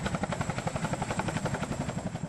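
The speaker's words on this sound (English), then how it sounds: "we managed to persuade the helicopter to land in the wadi" A military helicopter sets down in a wadi, its rotor beating in a fast, steady thump with a high turbine whine running through it, loud and close for the whole stretch.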